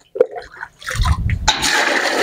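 Water poured from a cup while preparing a homemade salt and electrolyte cell, a short splash followed by a steady gushing pour that fills the remaining moments.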